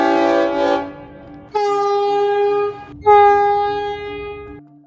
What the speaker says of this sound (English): all you hear is blast, blast, blast, blast, blast from the train horns